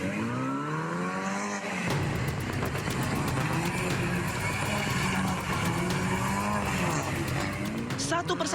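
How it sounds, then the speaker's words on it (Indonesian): Luxury cars drifting one after another through a city intersection on Jalan Metro Pondok Indah, Kebayoran Lama, South Jakarta, engines roaring and tires squealing continuously, loud and close, with a news voice talking over it. "Satu persatu mobil mewah melakukan aksi nekat dan berbahaya drifting di persimpangan Jalan Metro Pondok Indah Kebayoran Lama, Jakarta Selatan"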